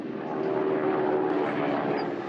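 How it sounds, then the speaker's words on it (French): Westland Lysander propeller aircraft droning steadily and loudly throughout, a continuous engine and airscrew roar with no breaks. "un avion, le Lysander, capable de décoller et d'atterrir sur un petit terrain"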